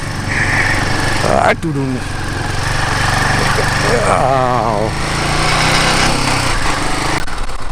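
Motorcycle engine labouring on a steep uphill ride, a steady close engine drone with a rising rev sweep midway, under intermittent talk.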